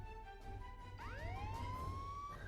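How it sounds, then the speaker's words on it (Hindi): A police siren played through an old phone's small speaker, rising and falling in a steady electronic wail over a constant background hum, thin and tinny, with no voices. "सायरन की आवाज निकाली।"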